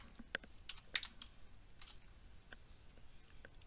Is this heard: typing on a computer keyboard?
yes